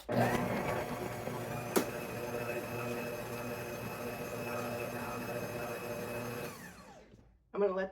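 A stand mixer creaming one stick of butter for sour cream coffeecake, a steady droning motor whir held close for about six and a half seconds with a sharp knock early on, then stopping.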